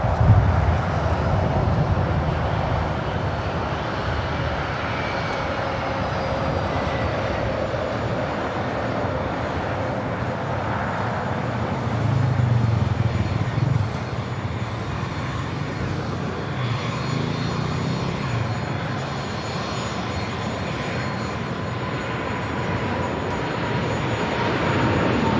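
Asiana Cargo Boeing 747 jet taking off at LAX, a steady distant roar of engines that swells slightly midway and holds for the full stretch, with no voices.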